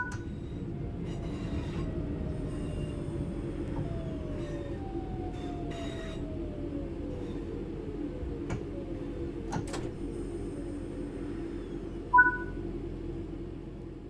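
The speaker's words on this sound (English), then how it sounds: "Bring the train to a stop by applying some brake using the power brake handle." Train Sim World 6 locomotive braking to a stop: steady low rumble of rolling stock with descending brake tones and faint ticking, a brief louder clunk near the end, no talk.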